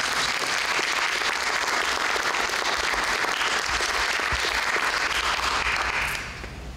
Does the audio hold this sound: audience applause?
yes